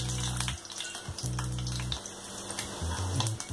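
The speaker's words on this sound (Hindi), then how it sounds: "ये देखिए हमारा अंडा फ्राई हो गया है।" An egg frying in oil in a pan for an egg masala curry, giving a steady close sizzle and crackle with a low hum underneath, no voices.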